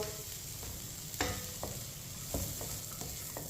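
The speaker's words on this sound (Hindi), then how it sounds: "ड्राई फ्रूट को ज़रूर थोड़ा सा भूनें" Dry fruits being roasted in a pan over low heat, a soft, quiet sizzle with occasional scraping stirs of a spoon against the pan, no voices.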